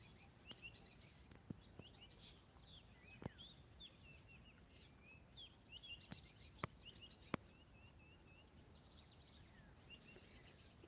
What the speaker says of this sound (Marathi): इकडचं वातावरण किती शांत आहे आणि पक्ष्यांचा आवाज तर ऐका तुम्ही